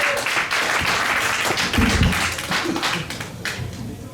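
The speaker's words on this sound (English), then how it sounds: "Let's clap for that." Audience at a comedy fest finals breaking into clapping, a moderately loud burst of mixed claps and taps with a few low voices and thumps in the room.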